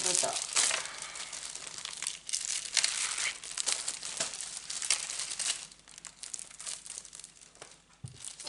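Crinkly Ukrainian scrapbooking paper being handled and shuffled up close, with soft rustles and crackles running throughout.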